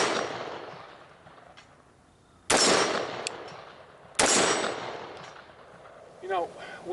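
Two loud, sharp rifle shots from a rifle fitted with a Trijicon Mini ACOG 1.5x16S scope ring out about two seconds apart outdoors, each decaying into an echo, followed by a brief voice.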